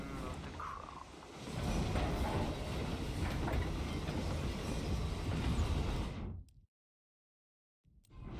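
A video game train rumbles past steadily with a clattering roll, loud and continuous for several seconds, then cuts to silence before resuming briefly.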